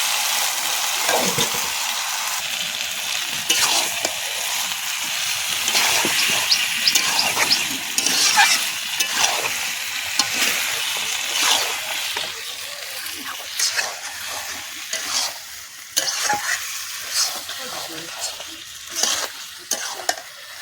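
Chicken being sautéed in a pan, a loud close sizzle under repeated irregular scraping stir strokes and clacks of a spatula, continuing steadily with no talk.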